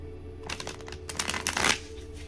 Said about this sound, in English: I'm going to start by cleansing the deck by just giving it a few good shuffles.